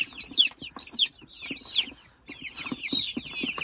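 Young chicks kept for sale in Shymkent cheep in bright, high, rapid peeps, several birds close together in overlapping bursts with brief quiet gaps.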